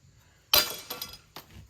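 A sharp crunch of glass among plexiglass debris on an abandoned cabin's front porch is followed by a few lighter clinks of loose shards settling, close and brief.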